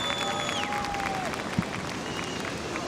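Steady crowd applause and cheering at a surf contest at Bells Beach, a broad wash of clapping held at an even level throughout, with a faint tonal whistle-like sweep near the start.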